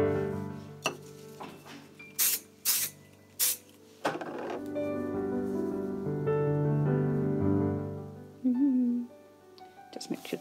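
Several short hissing bursts of an aerosol temporary adhesive spray, a few quick puffs spaced apart, over a faint hum and soft background noise.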